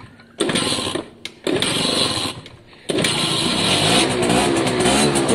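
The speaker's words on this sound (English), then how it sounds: "there's a bike here that works, it runs and it rides" A Suzuki AP50 50cc two-stroke motorbike engine runs with a buzzing, slightly uneven idle, cutting out briefly twice before settling into a steady close drone.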